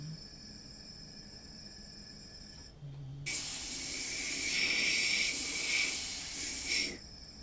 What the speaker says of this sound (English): So this is, of course, cleaning this airbrush out